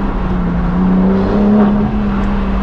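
A BMW M4 with a full straight-pipe exhaust accelerating, its loud, steady engine drone rising in pitch from inside the car, with no one talking.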